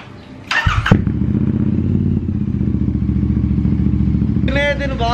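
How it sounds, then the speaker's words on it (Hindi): A Royal Enfield Interceptor 650 motorcycle cold-starts after sitting unused for about a week. A brief starter whir is followed by the engine catching, then a loud, close, steady thumping exhaust idle with a light mechanical clatter. "बहुत दिन से स्टार्ट नहीं किए तो करते एक बार स्टार्ट, कोल्ड स्टार्ट"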